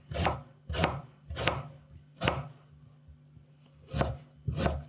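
A knife chops an onion into chunky pieces on a cutting board, six crisp, distinct strokes at an uneven pace, close up and clear, with no talking.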